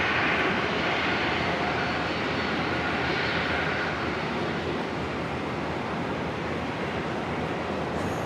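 A Toll freighter Boeing 737-400 jet arrives at Brisbane Airport on runway 19 left, its engines a broad, continuous roar heard from a distance that holds steady and slowly eases over eight seconds.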